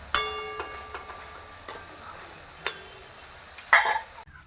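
Nimki pastries cook in hot oil with a faint, quiet sizzle, interrupted by four distinct metallic clinks and scrapes of a utensil against the pan.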